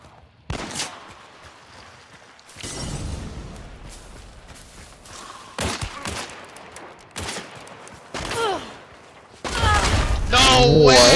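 Video game gunfire, loud bursts of rapid shots and thuds in several clusters, heaviest and most sustained near the end, with people talking between and over the shooting.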